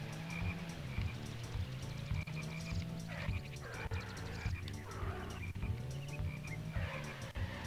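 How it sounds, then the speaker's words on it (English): Cartoon frogs croaking in the Diddy Kong Racing video game, a repeated game sound effect over a steady bed of game music, recurring several times with no talk. "These fucking frogs! So annoying!"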